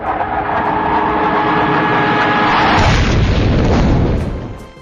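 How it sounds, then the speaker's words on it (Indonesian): A huge, roaring explosion from a high-explosive shell rumbles loud and continuous, a deep booming blast that swells and then fades out over several seconds. "ledakan yang sangat besar diakibatkan tembakan berdaya ledak tinggi"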